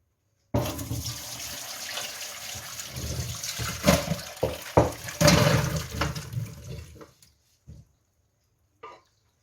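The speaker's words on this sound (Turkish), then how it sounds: "Ben bunu şimdi 4-5 su yıkayacağım duru suyla." Pumpkin pieces for a lime-crisp Antakya-style pumpkin dessert rinsed several times with clear water, running and splashing loudly from a tap into a sink, then stopping, with a couple of brief drips and clatters after.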